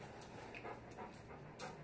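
A Golden Retriever pants in quick, soft, rhythmic breaths during an obedience training session, faint against a hissy background.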